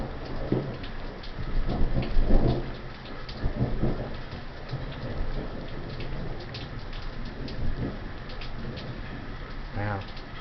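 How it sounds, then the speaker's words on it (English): Long rolling thunder grumbles through a nighttime rainstorm, swelling and fading over several seconds beneath steady rain, with a bird cooing nearby. "Wow, long thunder."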